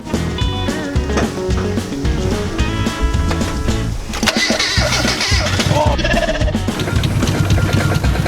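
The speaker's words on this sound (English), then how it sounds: "we're gonna go ahead and crank the car up and let it run" A car with beer poured into its radiator instead of coolant cranks and starts, then runs steadily under loud music, with people talking over the engine.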